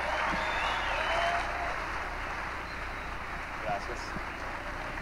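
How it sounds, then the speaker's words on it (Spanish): An audience applauds a stand-up comedian as he takes the stage, a dense, steady wash of clapping that stays even throughout and tapers slightly toward the end, with faint voices mixed in. "Fuerte el aplauso para él."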